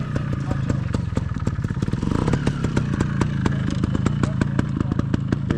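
A Sherco two-stroke trials motorcycle rides a figure-of-eight exercise, its engine putting out a steady, close, buzzing drone with rapid rhythmic pulses and occasional clatter throughout.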